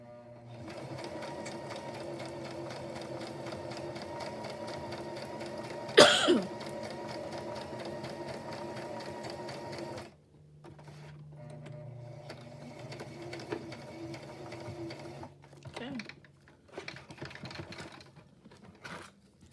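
Sewing machine stitching around the edges of a paper envelope, a steady mechanical whir with a brief louder clunk, then a pause and shorter irregular bursts of stitching.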